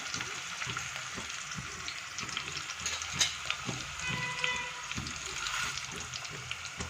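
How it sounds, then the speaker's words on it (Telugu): Moong dal and onions with curry leaves frying in a pan, a steady close sizzle broken by scattered scraping stirs and small clatters, with no voices. "ఉల్లిపాయ ఫ్రై అయినాక ఇందులో నేను కొన్ని పెసరపప్పు వేసుకుంటాను"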